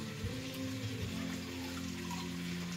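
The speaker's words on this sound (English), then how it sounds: "I'm gonna use a little bit of hot water just to rinse it." Hot water running and splashing into a small coconut cream can during cooking, a steady watery rush at close range with a sustained pouring tone and no talking.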